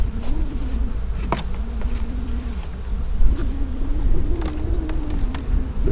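Honeybees buzz steadily and close during a 2024 hive inspection in a bee yard, a continuous droning hum with shifting pitch and a few brief louder passes as individual bees fly near.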